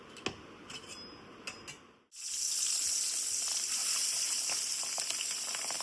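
Pabda fish frying in a lightly salted pan: soft scattered crackles, then a sudden loud, steady sizzle that holds without a break to the end.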